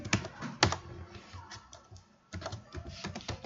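Close, quick keystrokes on a computer keyboard in clustered bursts with a short pause midway, typed while entering a file path in Python code.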